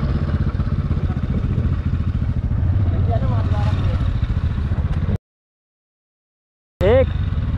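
A Honda Livo 110cc and a TVS Ntorq 125cc scooter before a drag race: a loud, steady engine drone close by with voices over it. The sound cuts out briefly near the end, then returns.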